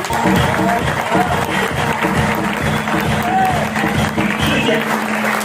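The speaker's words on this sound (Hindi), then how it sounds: "एक बार जोरदार तालियां" Loud audience applause mixed with crowd noise at a stage event, dense and sustained throughout, with voices and cheering blended in.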